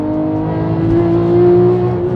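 A Porsche GT3 engine climbs steadily in revs on a highway, a loud, smooth, rising whine with a strong steady tone heard from inside the car, with no talking.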